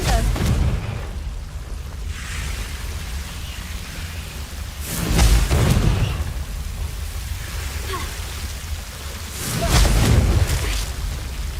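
Two booming magical blasts from the Confringo spell in Hogwarts Legacy, each a loud rumbling burst with a crackling tail, spaced several seconds apart over a noisy ambient background.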